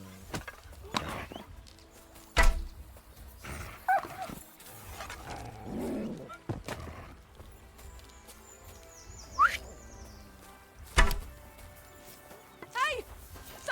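A dog in Kingdom Come: Deliverance 2 barks in several sharp, scattered outbursts amid game ambience, with voices talking between and over the barks.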